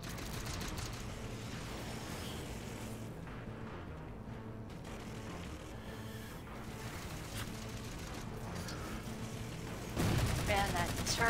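Sustained turret gunfire in the shooter Halo 4, a constant faint rattle of rapid shots running for about ten seconds amid game noise, growing louder near the end, with occasional talk underneath.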